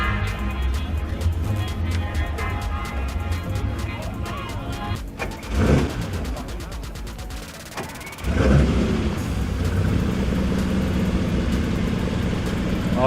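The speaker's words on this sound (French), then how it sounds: "Alors nous avons une Ferrari TR58 qui démarre." A Ferrari TR58 starts up and revs at the Chantilly Art et Élégance 2017 concours; the engine rises in two louder bursts over a steady crowd murmur and nearby voices.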